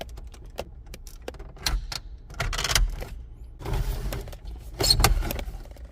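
Metal Ford radio removal keys sliding and clicking into the two dash holes around a 2003 Ford Ranger's stock radio, a close series of jingling metallic taps and scrapes with no talk.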